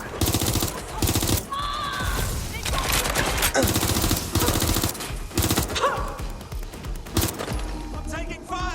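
Sustained machine gun fire crackles in the video game Watch Dogs: Legion, dense rapid bursts running almost continuously, loud and close, with game music and voices mixed underneath.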